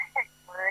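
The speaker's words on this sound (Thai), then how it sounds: "พอดีมีสายเข้ามาสายหนึ่งเดี๋ยวรับสายนี้ก่อน" A telephone rings in on a Thai radio dharma program, two short electronic ring bursts separated by a brief pause, fairly clear over a faint steady hum.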